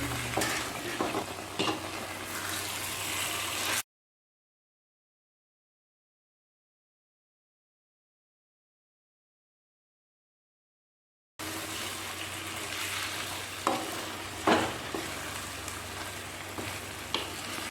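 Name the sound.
stirring semolina (rava) in ghee for kesari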